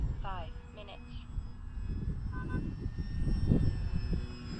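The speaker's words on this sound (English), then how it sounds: "This little plane can certainly take it." A Durafly Tundra radio-controlled model airplane buzzes overhead at a distance with a thin, steady whine, while someone talks and wind rumbles across the microphone.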